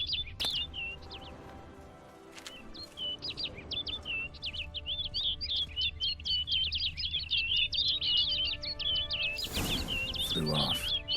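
Rapid, high chirping bird calls in The Witcher 3: Blood and Wine, a dense run of repeated tweets over a low ambient game bed, with a brief burst of flapping or rustling near the end.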